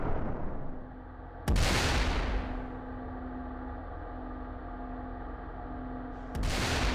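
Two huge blasts from a US Navy 8-megajoule railgun test firing 7.1-pound projectiles, each a sudden loud boom with a rumbling tail, separated by several seconds of steady low hum.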